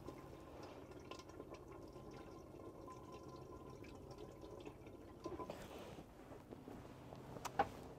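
Water runs steadily from the tap of an Elddis Signature CV60 caravan, a continuous low gushing and trickling with small drips, fairly close and heard alone with no talking.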